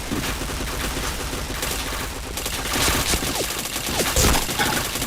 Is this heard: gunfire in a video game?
yes